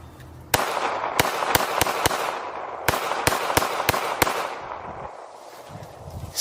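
A SIG P365 pistol chambered in .380 fired outdoors, about a dozen sharp, loud shots in two quick strings with a pause between, each crack ringing out briefly.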